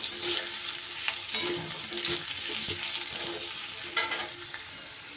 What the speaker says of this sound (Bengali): এইবার আমি এই তেলের মধ্যে দিয়ে দেব কেটে রাখা আলুগুলো।